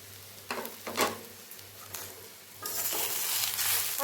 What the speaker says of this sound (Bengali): এবার আমি এর মধ্যে আগে থেকে কুড়িয়ে রাখা নারকেলগুলোকেও দিয়ে দিচ্ছি।